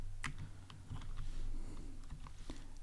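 Keys on a computer keyboard clack in irregular, quick taps up close while code is typed, with light clicks scattered over a low background hum.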